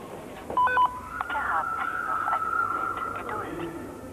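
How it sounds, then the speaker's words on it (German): An emergency call pillar on the Friedrichstraße U-Bahn platform in Berlin, its button pressed to reach the control centre: a few short dialing beeps, then a steady sustained tone over a hushed station background. "Durch Knopfdruck wird man mit der sogenannten SIS-Leitstelle verbunden."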